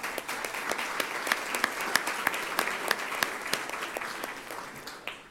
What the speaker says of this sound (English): Give us all a round of applause for their support of today's forum.